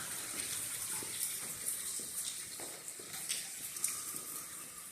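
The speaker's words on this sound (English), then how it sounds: "There is water running out here, so be careful not to slip and fall." Water running steadily from a campground water feature at Gorges State Park, a close, continuous hissing splash with small surges, no talking.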